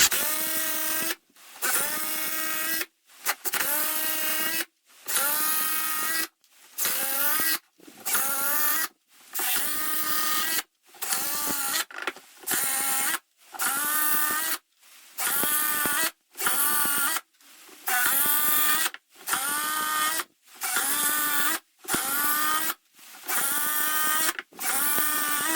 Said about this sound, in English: So let's see how many screws it can put in.